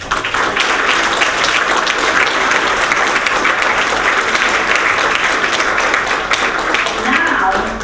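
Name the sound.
audience applause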